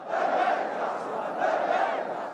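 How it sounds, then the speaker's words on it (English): Street crowds in Jordan and Yemen celebrate with massed chanting and shouting, a dense, continuous roar of many voices that swells and dips slightly in waves. "In Jordan and Yemen, crowds took to the streets to celebrate Sinwar's life."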